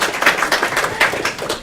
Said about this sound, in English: Please give them a welcome applause.